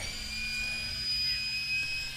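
An A-10C jet engine spools up during startup in the ARMA III game, a steady whine with high tonal lines over a low rumble, faint and continuous.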